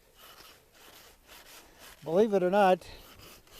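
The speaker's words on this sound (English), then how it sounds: "and I can take this saw and cut down here." A hand saw cuts through packed snow while building a snow cave shelter, giving a faint, repeated rasping stroke beneath a man's brief speech.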